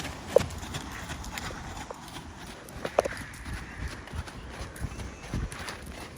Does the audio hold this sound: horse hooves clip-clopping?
yes